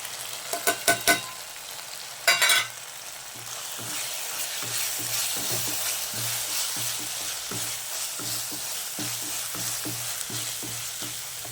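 Egg rice with masala frying in a pan, a steady loud sizzle with repeated scraping stirs of a spatula, a few sharp clatters near the start.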